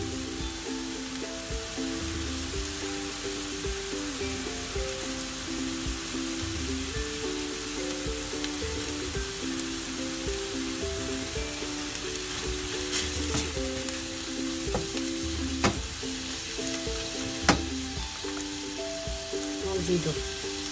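Onions and peppers fry in a pan with a steady, fairly quiet sizzle that runs throughout, a few small spatters popping up, while someone talks over it.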